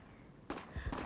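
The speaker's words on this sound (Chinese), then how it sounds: "外面的枪声好像越来越近了。" Distant gunfire in wartime Shanghai during the fighting for its liberation: two sharp, booming bursts about half a second apart, heard from afar against quiet background noise.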